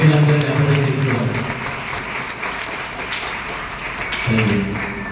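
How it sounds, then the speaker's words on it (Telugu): A church congregation claps loudly together in honour of Women's Day, a dense, steady wash of clapping with voices carrying over it and a fresh swell near the end. "ఒకసారి మన మనం గట్టిగా చప్పట్లు కొట్టి మన స్త్రీలందరినీ అభినందిస్తున్నాం."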